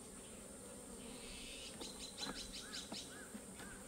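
Honeybees buzz around a hive during swarm control, a soft continuous drone with several louder individual bees passing close in short whining bursts over a quiet outdoor background.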